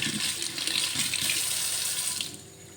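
Running water gushes and gurgles into a kitchen sink after its blocked drain pipe is cleared, then eases and quiets toward the end as it drains away.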